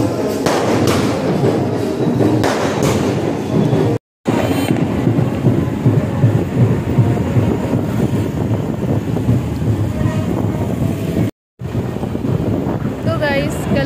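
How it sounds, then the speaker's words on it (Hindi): Constant heavy rain pours down, a dense broadband wash of sound with gusty, rumbling noise throughout and no speech. "कहीं अब तो बारिश हो रही है"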